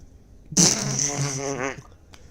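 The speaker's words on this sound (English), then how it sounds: "Suddenly, I groaned to let out a loud and wet, ferocious and intimate fart." A loud, wet fart rips out in one sustained, sputtering burst of about a second and a half, close and prominent against a quiet background.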